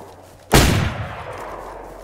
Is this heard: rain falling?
no